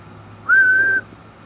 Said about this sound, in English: Let's give it a whistle.